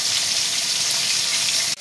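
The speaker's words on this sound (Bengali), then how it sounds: "কড়া করে ভাজতে হবে, হালকা ভাজলে হবে না।" Pieces of rohu fish sizzle in hot mustard oil with a dense, even crackle that stays close and constant, then breaks off abruptly with a short knock near the end.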